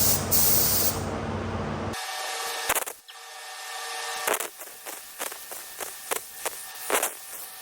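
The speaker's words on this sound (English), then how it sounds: "let's mix up some primer and get ready to spray these" Epoxy primer hisses from a spray gun in a steady close burst, then comes back as a run of short, sharp spray pulses with brief pauses between them, outdoors with no talking.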